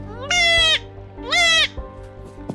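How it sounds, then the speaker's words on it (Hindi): A healthy black Bundelkhandi goat bleats twice, two loud close wavering cries in steady succession, with a quiet background hum between them. "तो एक स्वस्थ बुंदेलखंडी बकरा है"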